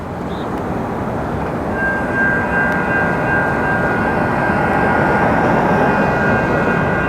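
A Metro A Line train passes at a distance in an urban area near the 10 freeway, a broad steady rumble that slowly swells, with a faint high tonal squeal running through it.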